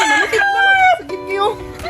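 A rooster crows loudly and close up, two drawn-out cock-a-doodle-doo calls back to back filling under two seconds.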